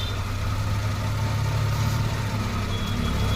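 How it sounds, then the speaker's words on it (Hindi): A Maruti Omni engine running steadily up close with a pipe removed, its accelerator rising into a sustained, even drone with no talk over it. "एक्सीलेटर तेज हो रहा है, देखो इसको हटाते ही ये देखो"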